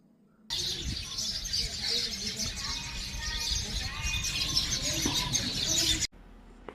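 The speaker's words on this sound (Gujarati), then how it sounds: "મસ્ત પંખીઓનો કલરવ" A dense chorus of birds chirping and tweeting continuously, bright and busy, starting and stopping abruptly.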